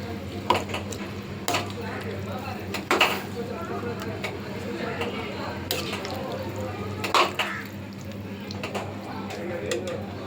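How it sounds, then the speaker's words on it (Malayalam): A spoon stirs and scrapes masala into a white bean curry in a cooking pot, giving irregular clinks and knocks against the metal over a low steady hum, with faint voices in the background. "ഇനി നമുക്ക് നല്ലോണം മിക്സ് ചെയ്തിടാം."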